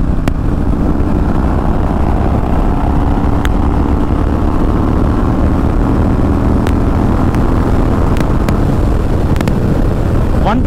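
A Royal Enfield Super Meteor 650 motorcycle fitted with an aftermarket exhaust cruises in sixth gear, giving a loud, steady, continuous engine drone mixed with rushing wind.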